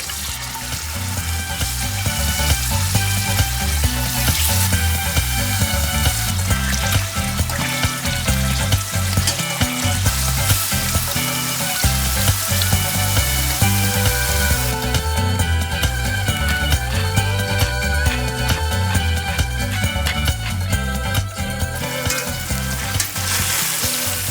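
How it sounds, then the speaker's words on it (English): Branzino fish frying in olive oil in a pan for a couple of minutes on each side, a loud, dense, continuous sizzle and crackle heard up close and steady throughout, with no talk. "heat up some olive oil. I'm just gonna fry it up on each side for a couple of minutes."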